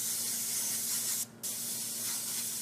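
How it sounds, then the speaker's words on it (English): Spray adhesive can, used like an airbrush to lay down a second paint color, gives a steady close hiss that runs throughout with one brief pause midway. "We're going to use the same spray adhesive can and come in and add our second color."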